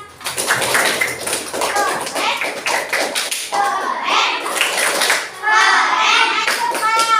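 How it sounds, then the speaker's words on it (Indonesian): Children in a classroom clap for a classmate after a group drawing is shown, bursts of loud, close hand claps mixed with kids' voices and chatter, the clapping breaking off and resuming. "Tepuk tangan dulu dong buat Aman."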